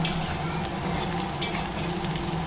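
Onions sizzle steadily in a pan for chicken gravy, with soft scraping of a spoon stirring them and occasional light clinks of utensil against the pot throughout.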